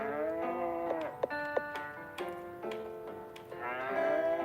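Cow mooing in the Harvest Moon: Hero of Leaf Valley farming game, several drawn-out harmonic moos in a row, clear and alone against a quiet background with game sounds.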